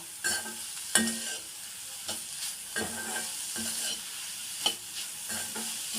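Grated carrot frying in a pan for carrot rice, a continuous soft sizzle broken by repeated scraping strokes of a spoon stirring the mixture, close up with no talking.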